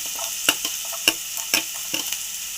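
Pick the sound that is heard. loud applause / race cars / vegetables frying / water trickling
vegetables frying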